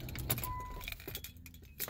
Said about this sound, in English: Let's go shut the car off.